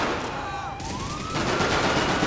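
Gunfire in a video game chase, a loud dense burst of shots that swells after a brief whooshing sweep and keeps up steadily to the end, with no speech over it.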